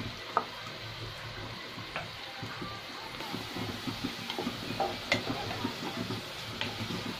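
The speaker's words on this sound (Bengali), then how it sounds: "অনবরত নেড়ে চেড়ে আমি বেরেস্তাটাকে ভেজে নিলাম" Onions stirred and fried in a karahi into crisp birista, a quiet steady sizzle broken by irregular scraping taps of the spatula against the pan, close and fairly soft.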